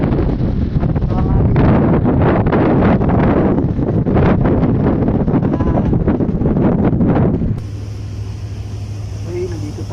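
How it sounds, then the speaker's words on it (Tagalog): Strong wind roars and buffets the microphone at a high point while moving, loud and continuous for most of the span before dropping to a softer steady hum near the end. "At syempre, medyo malakas ng hangin."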